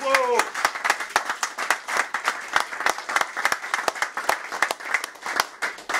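A crowd claps at a presidential campaign launch event, with loud, distinct hand claps in a quick, uneven rhythm continuing steadily. A brief voice is heard at the start.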